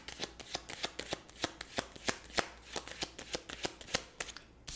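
Oracle cards are shuffled by hand for a tarot reading, producing a close, quiet run of quick papery riffles and soft slaps in an irregular rhythm with no talking.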